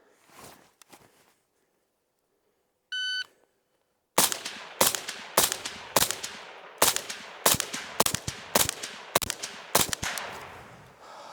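A 5.56 rifle with a 10.5-inch barrel fires ten sharp, suppressed shots through a Griffin Armament Dual-Lok HRT suppressor, in quick, fairly even succession. A brief electronic beep sounds just before the first shot.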